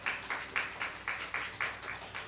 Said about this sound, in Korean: 박수 쳐주시기 바랍니다